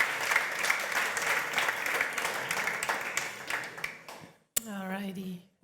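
A conference audience at Front Conference Zurich applauds warmly, dense clapping that fades after about four seconds, followed by a brief pause and then a person starting to speak.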